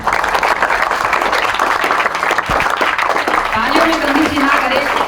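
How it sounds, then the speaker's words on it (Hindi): A crowd at an Independence Day Rajasthani short film and comedy programme claps loudly and continuously, with voices mixed into the applause. "तालियों में कंजूसी ना करें"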